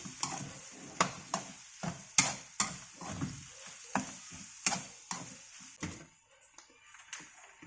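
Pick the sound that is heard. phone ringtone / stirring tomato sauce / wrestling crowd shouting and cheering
stirring tomato sauce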